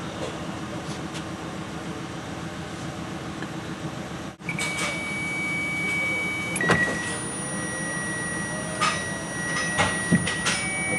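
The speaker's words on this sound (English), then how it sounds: "see if we can get the motor to go back up." Electric power window motor in a Ford Explorer door, wired directly with reversed polarity to raise the glass: a steady mechanical whir and hum running several seconds over a background drone, with a brief dropout before it settles into motor sound.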